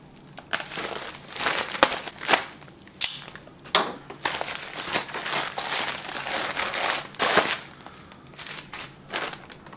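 Plastic packaging for a Canik TP9 SFX competition holster is torn and crumpled open, with irregular crinkles, crackles and sharp snaps close to the microphone, no voices.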